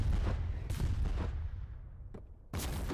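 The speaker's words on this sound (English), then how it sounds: "this sounds to me like a fucking storm cannon shooting at us" Storm cannon fire from the online war game Foxhole lands as heavy booms. One strikes at the start, more thuds follow near 0.7 and 1.2 seconds, a faint pop comes later, and a fresh blast hits near the end.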